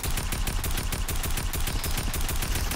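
A constant stream of rapid SMG fire during a Fortnite fight, dense and steady without a break, loud and close and free of talk.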